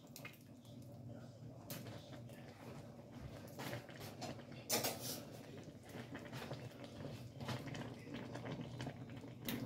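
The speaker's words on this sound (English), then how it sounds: "Then we'll let it boil." Noodle broth for pancit canton bubbling steadily in a pot, a soft continuous low simmer with faint watery churning throughout, nearby and quiet.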